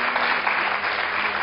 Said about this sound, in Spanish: eso merece el aplauso de todos